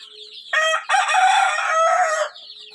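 A big farmyard rooster crows one loud, close, drawn-out call in several rising and sustained stretches, standing out clearly against quiet surroundings with no talking.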